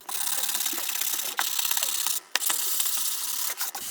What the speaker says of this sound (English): I'm going to rough it up anyway because I want to make sure when I fill, it adheres well